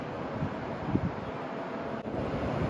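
Steady wind rushing and buffeting against the microphone, a constant low roar with gusty swells and no voices.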